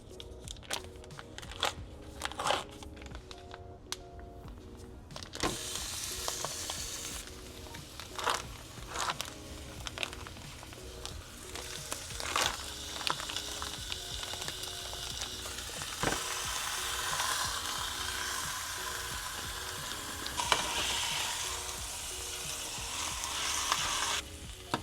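Three pounds of ground beef cook over medium heat in a large pan, a steady close sizzle with frequent scraping and stirring clatters and occasional crackles running throughout.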